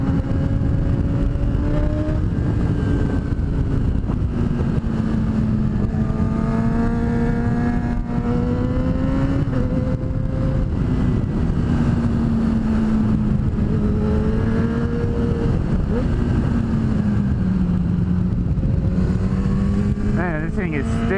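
A Kawasaki Ninja sport motorcycle revs and accelerates hard with traction control engaging, its engine note climbing and shifting through gears with steady wind rush over the whole stretch.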